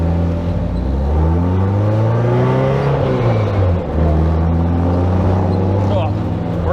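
Toyota AE86 engine droning loud and close as the car drives, pitch climbing through gears then settling; a voice talks over it.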